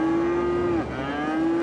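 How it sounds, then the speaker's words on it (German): A loud, sustained cow moo from Cities: Skylines holds a steady pitch, dips briefly, then continues alongside other overlapping lows, close and unbroken. "Alter, die Kühe nerven schon ganz schön hart."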